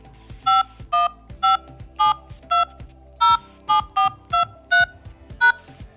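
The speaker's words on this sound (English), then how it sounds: "please enter the number you wish to display on caller ID, followed by the pound sign" Telephone keypad tones punching in a number for caller ID, a dozen short, evenly spaced dual-tone beeps in a steady rhythm, clear and close with no talking.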